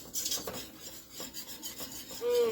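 Flour whisked into melted butter in a pan for mac and cheese, a steady scraping, rasping stir close up with a faint metallic swish of the whisk against the pan.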